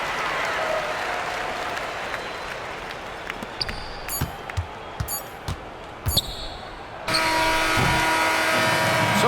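Crowd cheering and applauding in a basketball arena within the NBA 2K25 video game, a steady wash of noise with sharp court thumps and squeaks, then a louder, fuller roar swelling near the end.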